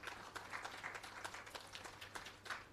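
Faint, distant audience applause at an anniversary employee service awards ceremony, a steady patter of many hands with no speech.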